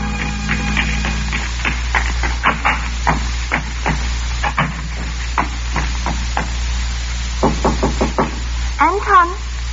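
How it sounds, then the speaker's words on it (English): A knock on a door in a 1940s radio mystery drama, a series of sharp raps repeated in short clusters, close and clear over a faint steady hum, with a brief warbling tone near the end and no voices. "I waited for her knock."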